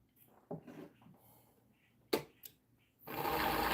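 A wood lathe with a carbide tool on a piece of very soft wood is started at low speed. A few faint knocks come first, then the motor kicks in with a steady, loud whirring that carries on to the end.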